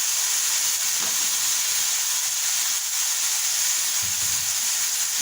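Half a kilo of chopped cauliflower tipped into hot masala in a pan gives a steady, bright sizzling hiss that holds evenly throughout, fairly loud and close, with no talking.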